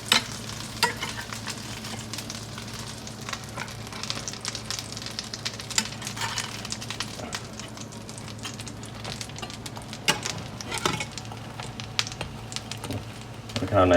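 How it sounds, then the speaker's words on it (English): Butter sizzling and frying in a well-heated pan for a grilled cheese sandwich, a steady crackling hiss with occasional stirring and scraping sounds close up, no talking. "The butter's going to melt a lot faster this time since the pan's really heated."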